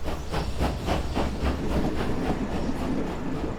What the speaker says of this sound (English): This clearly isn't the train that's going back and forth, because that's passing by right now.